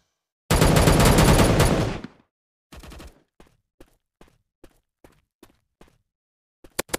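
MuskGun gameplay gunfire opens with a long, loud automatic burst, then a run of sharp single shots spaced about every half second, ending in a quick cluster of cracks.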